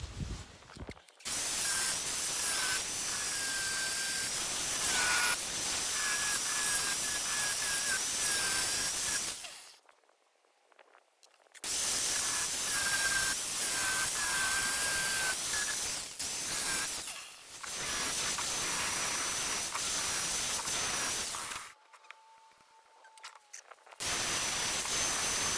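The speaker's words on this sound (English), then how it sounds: "Angle grinder." A harsh, high-pitched angle grinder whine runs in long loud bursts during engine work on a Ferrari 308, cutting out briefly between runs before starting up again.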